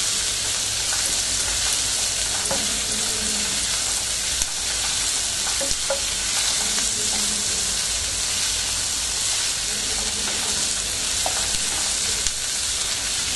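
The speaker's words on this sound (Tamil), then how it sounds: "ஆனியன் நல்லா ஃப்ரை ஆயிடுச்சு." Onions frying in a pan for South Indian vegetable kurma: a constant loud sizzle and hiss, with occasional spatula scrapes and small clicks scattered throughout and no speech.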